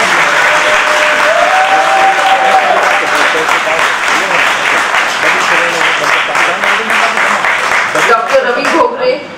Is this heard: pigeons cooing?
no